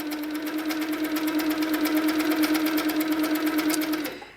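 A sewing machine running fast and steady while stitching over yarn, a loud close rapid mechanical whir with a regular stitch rhythm that stops abruptly at the end.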